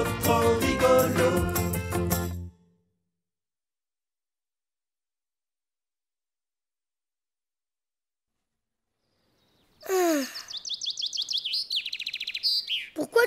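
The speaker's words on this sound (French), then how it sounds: "Pourquoi tu me réveilles, l'oiseau?" A cartoon bird chirps in a quick series of bright, repeated tweets after a long stretch of silence, following a brief burst of music at the start.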